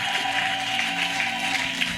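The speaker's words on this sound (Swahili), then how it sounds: "Nataka makofi ya kishindo na vigelegele kwa Bwana" A church congregation claps and ululates in praise, a dense, continuous wash of applause and high trilling cries heard from within the crowd.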